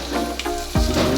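Garlic hits hot oil in a pan and sizzles, a soft crackle with a sudden louder burst partway through, close and without talk.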